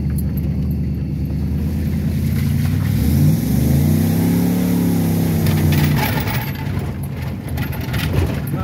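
A 1997 Ford F-150 truck drives over bumpy ground, its engine droning steadily and then rising in a clear rev that swells and falls away, followed by rattling knocks from the stiff suspension.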